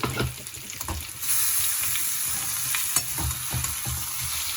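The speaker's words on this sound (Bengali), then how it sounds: "আর এটা ভাজা হচ্ছে" Ridge gourd with green chillies frying in a pan as a vegetarian dish cooks, a steady close sizzle broken by a few light scrapes and clicks of stirring, no voices.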